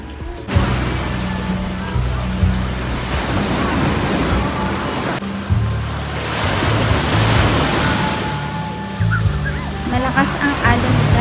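Strong ocean waves surge and break continuously at a beach resort in Baun, Batangas, a loud, rushing roar with wind buffeting the microphone throughout.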